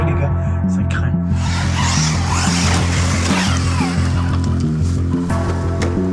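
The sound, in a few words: FTX Grand Apache RC car driving in forest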